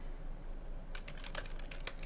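Keys tapped on a Commodore 128 computer keyboard, a quick run of light clicking keystrokes in the second half after a quiet start, close and faint.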